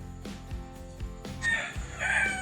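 A rooster crows loudly and close by at night in the Philippines, a long drawn-out call rising over a background of other clucking fowl.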